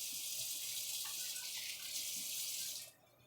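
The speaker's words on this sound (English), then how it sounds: "I'm going to add a little water" Tap water runs steadily into a pan of custard for a few seconds, a close splashing stream that cuts off near the end.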